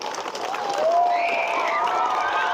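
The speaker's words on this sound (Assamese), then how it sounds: "সকলোৱে এটা হাত চাপৰি দিয়কচোন সিহঁতৰ কাৰণে।" An audience at a school gathering in Assam claps for students who passed their exams, a dense, steady round of applause that builds slightly and is mixed with crowd noise.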